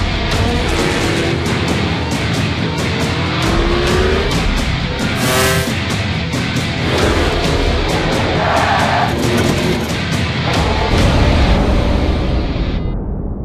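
MotoGP racing motorcycles scream past at around 350 km/h, a loud continuous high-revving engine roar with rising and falling pitch as bikes pass close by.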